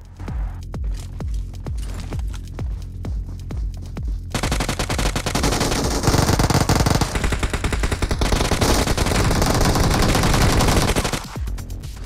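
Rapid automatic gunfire from BGMI (Battlegrounds Mobile India), loud sustained bursts with dense repeated shots, the clatter building to a heavy continuous stretch before easing near the end.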